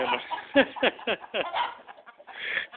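A rooster squawks and clucks in agitated bursts after a shock from an electric fence in a barn, several sharp calls in quick succession followed by a longer, fainter rasp.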